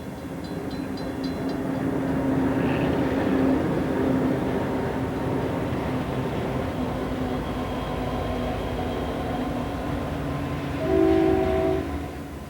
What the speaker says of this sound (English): This train is hauling coal for a power station or a steel mill.